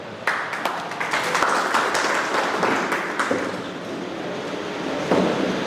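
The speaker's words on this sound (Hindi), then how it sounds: "तालियां तालियां तालियां।" A seated audience of students at a motivational seminar breaks into uneven clapping with sharp individual claps standing out, a few voices audible in the room.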